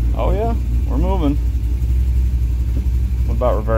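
A Cadillac CTS-V engine runs with a steady low rumble as the car creeps forward in first gear on a trailer, a constant drone under short bursts of talk.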